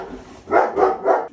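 Dog barking nearby in a home kitchen: three loud, evenly spaced barks, with a quieter stretch before them.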